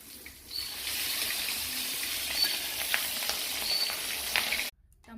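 Fish frying in hot oil gives a steady, loud sizzle that holds evenly for several seconds, then cuts off abruptly.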